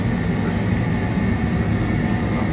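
The thrust reversers of an Airbus airliner roar during landing: a deep, steady, powerful rumble, heard close and unbroken throughout.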